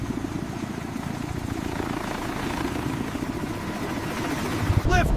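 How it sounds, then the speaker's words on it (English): A heavy rotor drone from a V-22 Osprey tiltrotor aircraft pulses steadily at close range, growing slightly louder toward the end as it lifts off. "Lift off! It rises like a helicopter!"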